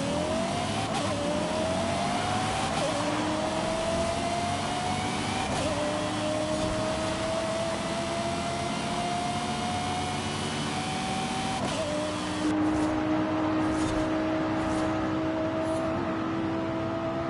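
A Lexus races in Forza Horizon 5 with a loud, continuous engine note that climbs through the revs, drops sharply at each upshift and climbs again, staying close and dominant with no talk over it.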